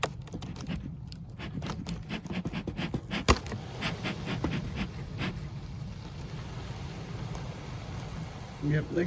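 Honey bees buzz inside a hive, a low continuous drone under scattered rustling and handling noise close by, fairly faint throughout.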